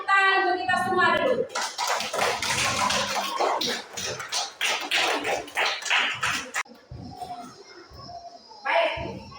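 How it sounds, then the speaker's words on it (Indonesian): A classroom of children claps together for everyone after a geometry lesson, a dense patter of hands lasting several seconds and mixed with young voices and a teacher talking. "Tepuk tangan untuk kita semua dulu."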